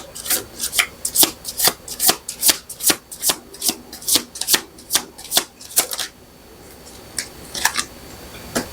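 Tarot cards shuffled by hand in a quick, regular run of crisp riffling flicks, close up, which pause and then return as a few scattered flicks, with no voices.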